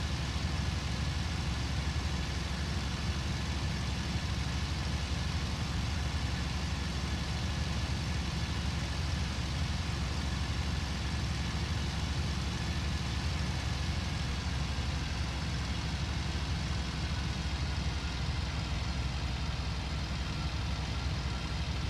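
A steady, droning aircraft engine in a Bf 109 G-4 flight game hums continuously for over twenty seconds at an even, moderate level with broad rushing noise and no talk.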